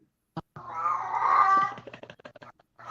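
A cat gives one drawn-out, wavering meow lasting about a second, close and fairly loud, with a short click before it and faint scattered noises after.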